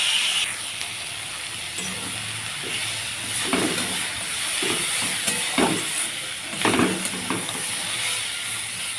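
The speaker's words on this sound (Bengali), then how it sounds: "চলো এটা ভেজে নিই তাড়াতাড়ি।" Potatoes, tomatoes, onion, ginger and garlic fry in a pan with a steady close hiss and sizzle, broken by several short scraping stirs of a spatula; no one speaks.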